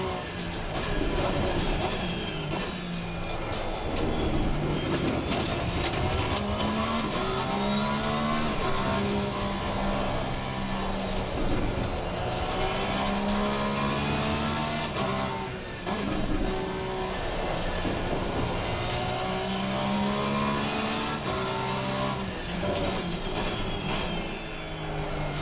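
A Porsche 911 GT3R race car in Assetto Corsa Competizione laps Laguna Seca, its engine droning loud and continuous, with pitch climbing and falling through gear changes and throttle lifts into corners.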